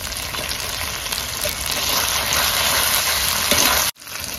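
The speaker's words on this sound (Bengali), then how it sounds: "এবার এর মধ্যে মাছগুলো দিয়ে দেবো।" Katla fish pieces drop into a pan of yogurt masala in rustic Bengali doi katla cooking, a steady loud sizzle and frying hiss that runs continuously before cutting off abruptly.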